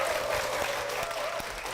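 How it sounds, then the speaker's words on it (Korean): Church audience applause welcoming a guest to the stage, a steady, fairly soft wash of many hands clapping heard from a distance throughout. "박수로 모시겠습니다."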